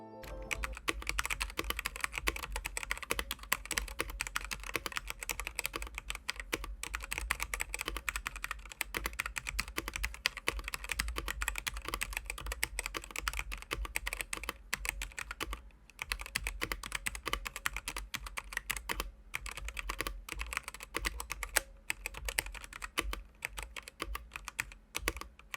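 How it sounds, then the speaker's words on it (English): Steady, continuous typing on a stock Redragon Kitava mechanical keyboard, close and clear, with rapid overlapping keystrokes running throughout and no voices. "here's a quick sound test of the stock Redragon Kitava"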